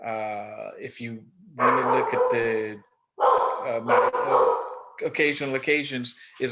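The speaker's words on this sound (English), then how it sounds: "And yes, that's my dog in the background." A pet dog barks in the background of an indoor recording, several short yips and barks mixed under close, continuous conversational speech.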